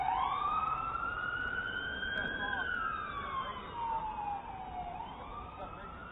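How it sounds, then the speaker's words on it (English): Loud wailing sirens rise and fall continuously as a motorcade of police cars and an ambulance passes close by at the United Nations, with traffic rumble underneath and no talking. "There's several police cars, an ambulance, and some dignitary"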